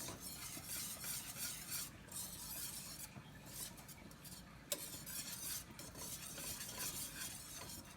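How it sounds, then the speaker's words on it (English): A pot of melting ingredients being stirred, with a soft continuous scraping and faint sizzle, occasional light clinks of a utensil against the pot, fairly quiet and steady. "continue to stir while you put this in as well"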